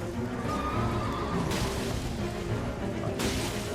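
A horse in the Elden Ring video game whinnies loudly and close, under a bed of game sound with bursts of whooshing noise around it.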